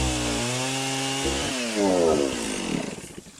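Chainsaw cutting into a standing tree, close and loud, its engine note dipping and rising as the chain bites into the wood, with no talking over it.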